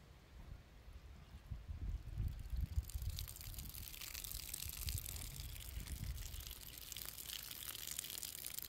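Water poured over and around a potted Phalaenopsis orchid to soak it, a steady trickling, splashing flow up close that grows brighter and fuller partway through and runs continuously without talk.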